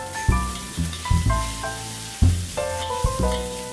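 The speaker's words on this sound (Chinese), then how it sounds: "用一个干净嘅锅爆香蒜头，然后呢就加入免治猪肉蘸酒" Garlic and minced pork sizzle in a clean wok while a spatula scrapes and tosses them in short bursts, close and loud, with no one talking.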